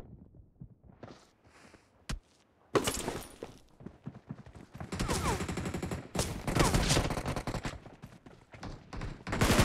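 Video game shooting match with gunfire: scattered shots at first, then one sharp crack, then dense rapid bursts of automatic fire that keep going, loud and close.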